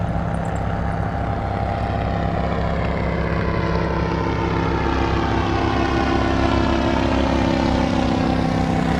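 A paramotor engine flying overhead near Vang Vieng gives a loud, steady propeller drone that rises slightly in pitch as it passes, continuous and close for the whole stretch.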